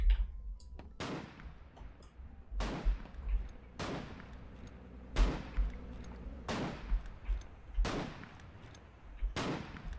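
Gunfire in the video game Foxhole cracks out in steady, evenly spaced single shots, about one every second or so, each a sharp report with a trailing echo over a low rumbling background.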